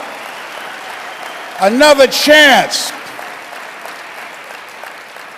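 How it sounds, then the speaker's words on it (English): Steady audience applause runs under a speaker's voice, which briefly rises above the clapping before the crowd noise continues at a moderate level. "Give yourselves a round of applause for giving people another shot"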